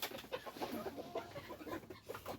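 Backyard chickens and roosters cluck in short, irregular bursts, several birds overlapping at close to middle distance with no talk.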